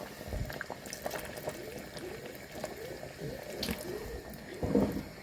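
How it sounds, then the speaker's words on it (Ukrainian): Plov with rice, raisins and garlic bubbles in a pot of water, with soft steady popping and gurgling throughout and a louder clunk near the end. "Все, булькає плов."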